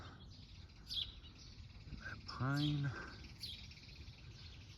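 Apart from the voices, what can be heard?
bird calling in a garden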